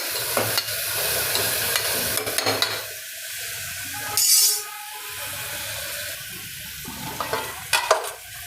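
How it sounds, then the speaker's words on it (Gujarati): Chopped vegetables stirred and mixed in a hot pan for mung bean pulao, with repeated scraping spoon strokes over a light sizzle and one brief loud hiss midway. "હવે આ બધું શાકભાજી આપણે મિક્સ કરશું"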